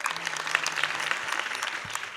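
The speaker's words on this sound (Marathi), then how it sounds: "टाळ्या वाजवा." An audience at a religious discourse claps in a dense, steady round of applause, many hands together, with a low voice briefly underneath.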